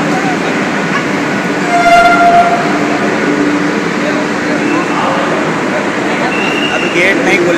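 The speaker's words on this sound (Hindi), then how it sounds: "काफ़ी बड़ी है मेट्रो" A Lucknow Metro train rumbles steadily from inside the carriage, with continuous loud rail and ventilation noise, brief tonal squeals, and people talking over it.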